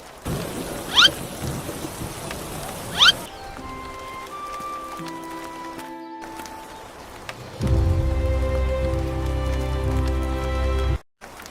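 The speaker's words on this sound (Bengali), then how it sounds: "কত দিন ধরে বৃষ্টি থামছে না" Cartoon rainy-day scene with steady rain hissing at the start and two sharp thunder-like cracks, followed by a stretch of tonal music and a louder, denser sustained wash of sound.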